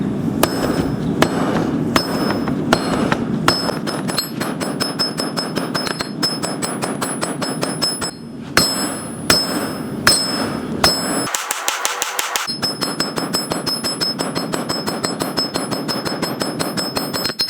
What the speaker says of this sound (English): we're going to use a rounding hammer